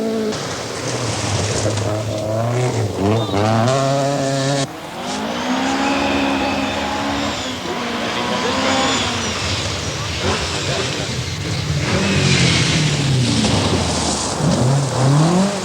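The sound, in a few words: rally cars driving through forest stages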